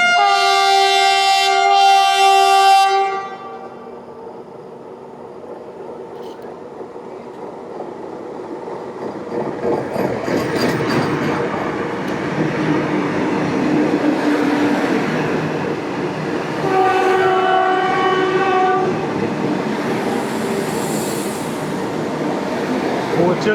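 A Vande Bharat train crossing points onto another line, a rumbling roll of wheels and clatter rising after a horn-like tone at the start, with a second sustained horn midway, heard from trackside.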